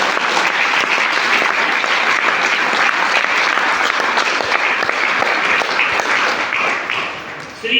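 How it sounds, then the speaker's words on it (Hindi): Sustained applause from an audience greeting a guest speaker at a program, dense steady clapping at full volume throughout with no talk over it, tapering slightly at the end. "एक बार उनके लिए जोरदार तालियां।"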